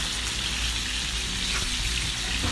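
Spice-marinated chicken for kabsa fries in a pan with a loud, dense, steady sizzle that crackles throughout, close and continuous, with no talking.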